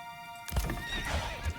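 Horse in the medieval strategy game Manor Lords, a short neigh and whinny with soft hoof clip-clops, heard alone over a faint musical background.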